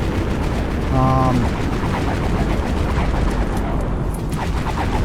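An exploder weapon in the Dead Frontier video game fires extremely fast, producing a steady, loud, dense stream of rapid shots with someone talking over it.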